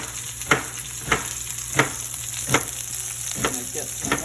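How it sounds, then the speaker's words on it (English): Thinly sliced onion sizzles in a hot pan while being fried for beef and broccoli, a steady close crackle punctuated by regular clicks and taps of stirring. "You can hear it sizzling away"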